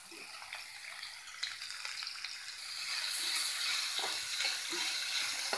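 Onion, green chili, garlic, ginger, curry leaves and coriander leaves sautéing in hot oil in a pan, a continuous crackling sizzle that grows louder partway through, with occasional scrapes of stirring.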